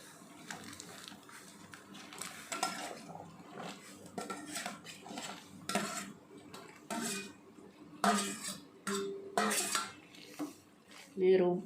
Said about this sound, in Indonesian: talas yang sudah diiris-iris kita rebus dulu ya, masukkan ke dalam air yang sudah panas ya